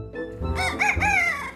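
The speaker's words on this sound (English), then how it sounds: "닭들이 울어주네요." Roosters crow on a rural farm, one loud, close cock-a-doodle-doo rising and stretching out, with no talk over it.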